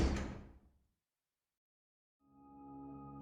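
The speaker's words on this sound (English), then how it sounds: "The basement door burst open and a flood of light poured over her." A basement door bursts open with a single loud crash that rings out and fades within a second, then silence, followed by steady tonal music.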